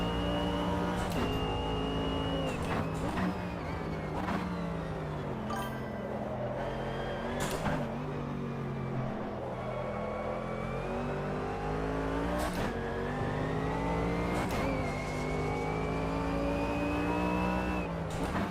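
Porsche race car engine in a racing video game, a loud continuous high-revving whine rising and falling through gear shifts, with brief tire squeals.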